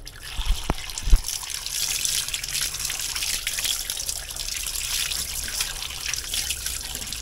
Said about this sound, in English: so them three pieces we're gonna use, just wash out them again